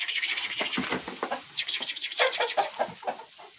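Pushkin breed chickens in a farmyard coop, with active roosters clucking and calling in a dense, continuous run of overlapping bursts, fairly close and loud throughout.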